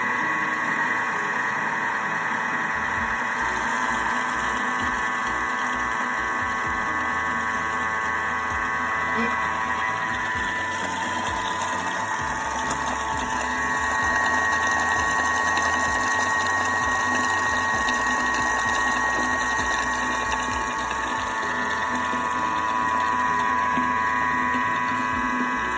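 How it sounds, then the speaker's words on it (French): A Thermomix runs at speed 4, mixing galette batter as eggs go in, giving a steady, close mechanical whir with a rhythmic rumble underneath that holds without pause for the whole stretch. "on va lancer 30 secondes vitesse 4, sachant qu'il faudra verser les œufs"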